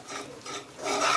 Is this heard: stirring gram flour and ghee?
yes